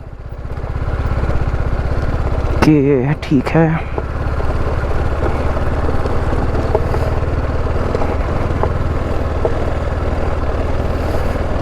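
A motorcycle engine runs steadily at a near idle inside the Lambi Dehar mines in Uttarakhand, a loud continuous drone with brief talk over it.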